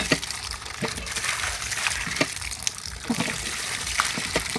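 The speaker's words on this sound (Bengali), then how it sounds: "বুঝছো, কি সুন্দর লাফালাফি করতেছে মাছগুলো।" Fish in a backyard farming pond thrash and leap, throwing irregular splashes and gushes of water at close range with several sharper slaps among the continuous churning.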